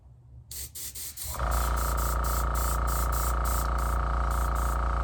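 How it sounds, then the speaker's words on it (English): An airbrush runs a test spray while an antler is being repaired: a steady, loud hiss with a low hum underneath, which starts about a second in after a few short, muffled bursts and then holds continuously. "I like to do a little test run on this guy. And you'll hear that airbrush in the background."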